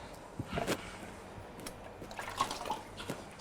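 Water splashes and trickles into a pot while tuo zaafi is cooked, several short pours and drips close by against quiet kitchen background.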